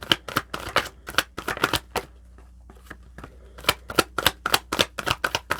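Tarot cards being shuffled in a rapid riffling flurry, a long run of dense papery bursts that pauses briefly and then resumes, close and fairly loud, with no voices.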